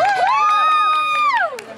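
A rally crowd at UCLA, gathered to save the Islamics department, lets out a loud, close whooping cheer. One rising and falling shout dominates for over a second, then fades into brief crowd noise.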